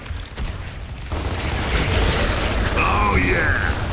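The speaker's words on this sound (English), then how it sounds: "And that explosion hurts like a motherfucker." A heavy explosion in the video game Gears of War Ultimate Edition erupts after a short lull and rolls on in a sustained, loud roar, with a voice speaking over the blast.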